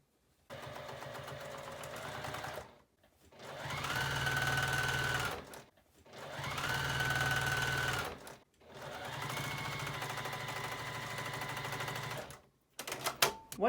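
Sewing machine stitching a rolled hem on mask fabric, three steady runs of rapid mechanical whirring separated by short pauses, close and fairly quiet.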